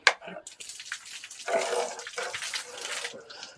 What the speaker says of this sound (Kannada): ಈಗ ನಾನು ನೀರು ಹಾಕ್ತಿರೋದ್ರಿಂದ ರೂಮ್ ಒಳಗೆಲ್ಲ ಕೆಳಗೆಲ್ಲ ನೀರಾಗುತ್ತೆ